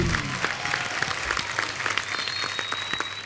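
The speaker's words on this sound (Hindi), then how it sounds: "जोरदार तालियां" Sustained studio audience applause at a TV comedy talk show, dense rapid clapping from a crowd, steady and fairly loud throughout.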